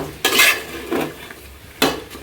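Bitter gourd fry with minced meat turned in a pan, three bursts of spatula scraping and clinking against the metal with short pauses between.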